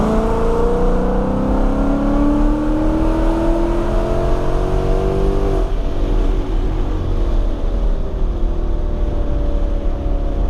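A 2020 Mustang GT with a Corsa Sport exhaust revs up and down in a loud, steady engine note. The pitch climbs for several seconds, then falls back to a lower idle-like rumble, with no talking.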